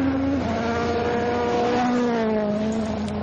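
A rally car at Rally Jordan 2011 blasts past on the power stage, its engine loud and close with a steady high-pitched whine that dips slightly in pitch as it goes by, continuous for the whole moment.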